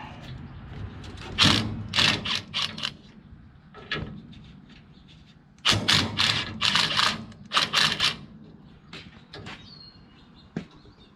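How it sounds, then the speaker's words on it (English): A socket wrench working bolts loose on a tractor, bursts of rapid ratcheting clicks in two main clusters with metallic knocks and pauses between, close and fairly loud. "now I gotta grab a different socket so we can get these guys undone"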